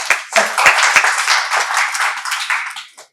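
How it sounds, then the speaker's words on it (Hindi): A small gathering at a health and cultural event in Punjabi Bagh claps for yoga performers, with a few sharp close claps that swell into brief lively applause before quickly dying away. "मैं उन सब के लिए तालियां बजाती हूं"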